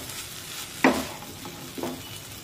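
A spoon stirring a moong dal and onion dish in a pan, with a faint sizzle underneath and two distinct scraping strokes about a second apart.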